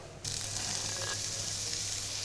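Soy sauce hitting a hot pan slicked with a little olive oil, giving a steady close sizzle that starts abruptly and holds evenly throughout, with no voices.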